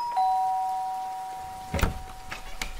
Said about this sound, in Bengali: এমন সময় কলিং বেল বেজে উঠল।